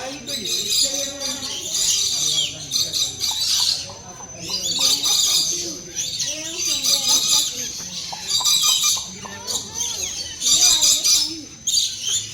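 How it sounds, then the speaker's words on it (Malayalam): Parrots at Parrot World, a bird park in Malaysia, give a dense run of shrill screeches and chirps that come in repeated bursts, with a murmur of voices underneath. "നമ്മളിപ്പോ പക്ഷികളുടെ ഒരു തത്തമ്മകളുടെ ലോകത്തെത്തി."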